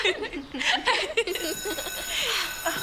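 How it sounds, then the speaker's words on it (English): An electric bell rings in a bright, sustained tone through the second half, while voices talk and chuckle over the first part. "The bell."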